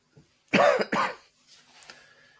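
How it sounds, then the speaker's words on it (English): A short burst of two harsh coughs, close and loud, followed by quieter throat noises and faint rustling. "I'm just going to mute myself 1 second while I have a bit of a coughing fit"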